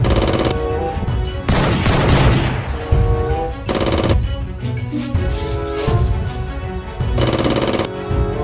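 Camo-pattern shotgun firing in a video game, bursts of rapid booming shots in clusters separated by short pauses, loud and alone.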